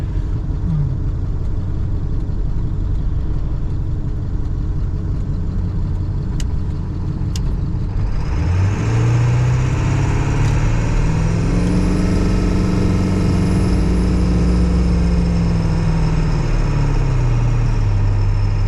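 A 7.3 Powerstroke diesel truck engine idles loudly and steadily nearby, then revs up with a rising, wavering growl and a faint high whine over it.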